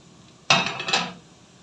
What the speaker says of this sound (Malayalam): ഇനി ഇതിലേക്ക് കാഷ്നട്ട് ഇട്ട് കൊടുക്കാം.